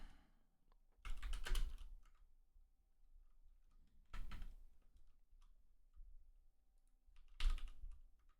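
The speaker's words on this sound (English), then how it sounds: "Typing in highly sensitive information." Computer keyboard typing heard in three quiet bursts of rapid key clicks separated by pauses, faint and close with no talking.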